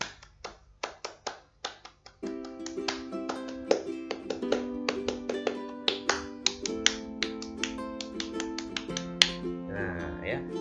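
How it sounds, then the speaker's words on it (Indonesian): Scout group clap, a patterned rhythmic clapping routine: sharp hand claps and snaps in a repeated sequence, first alone, then joined by sustained tones for the rest, fairly close and steady throughout. "maka 3 kali tepuk pramuka"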